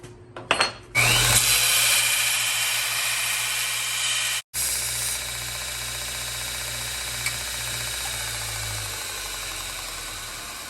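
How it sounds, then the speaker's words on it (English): Power grinder cutting off the steel brake pedal stop tab on a go-kart pedal assembly during a rebuild, a steady loud whine running nearly the whole time with a brief cut partway through, no talking. "I'm just going to grind that off completely"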